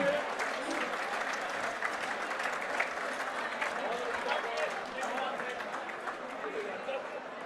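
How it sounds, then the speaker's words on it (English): An audience at a live boxing event applauds both boxers, a steady, dense clapping that carries on throughout with crowd noise and some chatter mixed in. "give a big round of applause to both boxers here"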